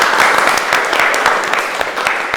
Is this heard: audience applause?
yes